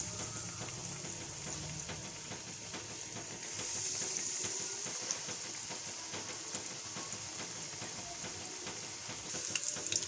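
Bread samosas fry in about a cup of hot oil, giving a steady, close crackling sizzle that runs throughout, with brief bursts of louder spattering.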